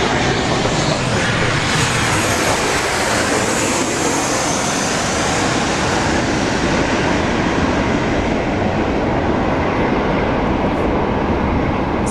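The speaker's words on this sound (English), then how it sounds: "Any minute now, the wake turbulence will be here. It's this nice, crisp, whipping sound. Qatar 777 taking off." Qatar Airways Boeing 777 taking off from runway 16R at Sydney International Airport, a loud continuous broadband roar of jet engines and rushing wake turbulence, heard overhead and steady throughout with no voices.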